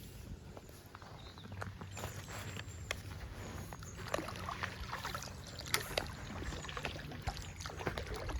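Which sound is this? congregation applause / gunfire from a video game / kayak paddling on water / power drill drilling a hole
kayak paddling on water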